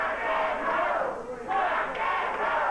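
A wrestling arena crowd at a 1989 Memphis show chants in unison, a loud rhythmic roar rising and falling in two-beat swells that fill the hall.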